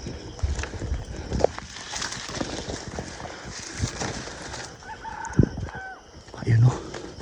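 A wild rooster crows from a forest beside a cornfield, heard as a faint crow in the background amid outdoor ambience and rustling, with a few sharp clicks.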